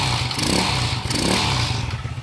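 Honda TMX 155 motorcycle engine being revved up close in a workshop, a loud mid-pitched mechanical drone with rhythmic rises and clattering valve noise, no talking.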